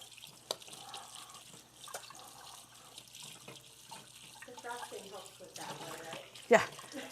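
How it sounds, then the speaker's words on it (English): Water running into a kitchen sink while dishes are rinsed and cleaned up, a light splashing flow under intermittent talk, with a sharper clatter near the end. "We'll dispose of those in the sink and clean myself up a little bit here."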